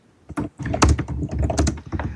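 Fast, heavy typing on a keyboard, a dense rapid clatter of keystrokes after a brief quiet start, close and loud with no voices.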